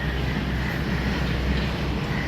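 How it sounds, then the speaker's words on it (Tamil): A train rolls past along a seaside Marine Drive line, a loud, steady rumble and rattle of wagons close by that holds at full strength for the whole stretch without pause. "இன்னொரு ட்ரெயின், இன்னொரு அட்டர் டிரெக்ஷன், இன்னொரு ட்ரெயின்."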